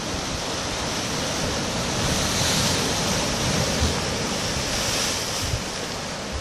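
Ocean surf pounds against the tetrapod breakwater of the north jetty at Port Ouest, Réunion, as a continuous, loud, broadband roar mixed with wind buffeting, with no voices.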